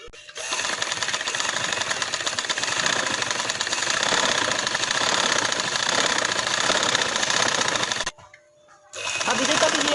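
Sewing machine stitching dori piping onto a designer dupatta, a loud continuous whirring run for about eight seconds, a brief pause, then stitching resumes.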